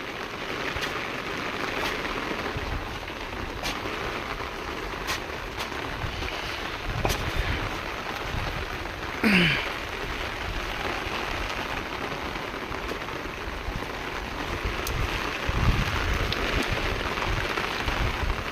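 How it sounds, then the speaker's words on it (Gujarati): Rain falls steadily outdoors in a close, even hiss that runs throughout, broken by a few sharp drip taps and one brief swoosh near the middle. "એમ છે કાંઈક વરસાદનું વાતાવરણ"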